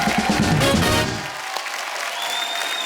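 A studio audience at a comedy show claps loudly for the players, then the applause quickly dies away into a quieter tail.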